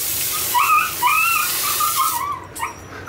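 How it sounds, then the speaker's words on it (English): A dog in distress at a veterinary clinic, giving a string of high, wavering whimpers and yelps that rise and fall over a few seconds, fairly close and loud, with no voices over them. "It sounds like that dog screaming."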